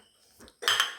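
Cut banana pieces drop into a mixer jar, a short soft rustle followed by a bright clattering knock of food and utensil against the jar, close and brief.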